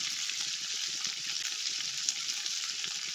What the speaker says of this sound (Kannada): ಇದೆಲ್ಲ ಚೆನ್ನಾಗಿ ಫ್ರೈ ಮಾಡ್ಕೊಳ್ಳೋಣ